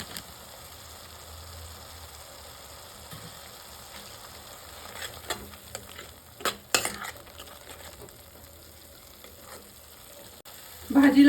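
Spice masala roasting in a pan over medium heat for mushroom bhaji gives a soft, steady sizzle, with occasional spoon scrapes and a louder clatter of stirring right at the end.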